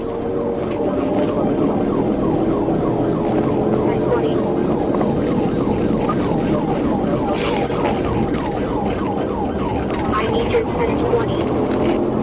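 A Georgia State Patrol police siren wails in steady repeating sweeps during a chase, over loud, continuous road and engine noise, lasting throughout.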